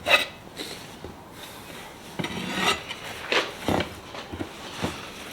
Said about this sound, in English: use two bars and work them together